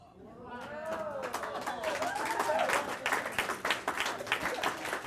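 Audience applause fills a lecture hall after a math trick, building into sustained clapping with some cheering and a few voices mixed in.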